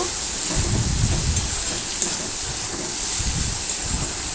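Bottle gourd and shrimp with turmeric and red chili powder sizzle in a hot pan, a dense, even hiss that continues without pause, with faint stirring scrapes beneath it.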